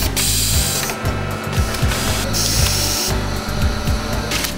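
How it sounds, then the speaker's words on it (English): A Visumatic Viper MBC screwdriving robot at work, a dense loud run of rapid mechanical clicking and whirring with repeated short pulses and brief pauses, steady and close. "the Viper MBC delivers lightning-fast screwdriving and flawless fastener delivery"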